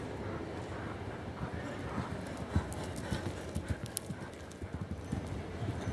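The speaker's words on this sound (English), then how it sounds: "Hear the horse and hear the hooves" Horse hooves thudding on arena footing during a show jumping equitation round, a brisk irregular clip-clop of footfalls heard moderately close and fairly quiet, with faint breathing and background noise and no talk.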